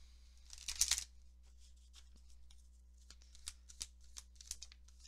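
Oracle cards riffle and shuffle in quick soft bursts close by, with a louder flurry early on followed by lighter taps and slides as cards are drawn, in a quiet room with no talk.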